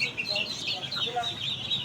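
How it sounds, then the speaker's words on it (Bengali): A brood of Chinese duck ducklings keeps up a busy stream of high, overlapping peeps and chirps, close and moderately loud. "অরিজিনাল চীন হাঁসের বাচ্চা"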